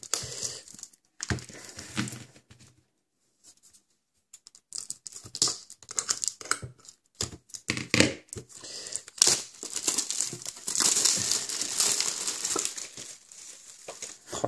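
Cardboard and plastic packaging of a Pokémon Yveltal Pokébox crinkles and rustles as it is opened, in irregular bursts separated by short silences, ending in a sustained stretch of crumpling wrapper.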